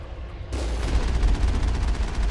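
Heavy turret gunfire in Mass Effect kicks in abruptly and stays loud as a dense, rapid stream of shots under booming low rumble.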